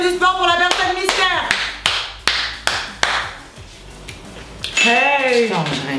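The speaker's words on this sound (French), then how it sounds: "Un tonnerre d'applaudissements pour la personne mystère." A few people clap for a mystery guest in a casual French Q&A, with sharp, separate handclaps in loose bursts and lively voices talking and exclaiming around them.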